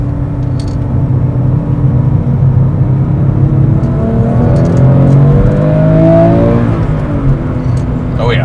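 A Porsche 996 GT3 engine revs steadily while driving, a loud continuous mechanical drone that climbs in pitch through the middle, with voices talking over it inside the car.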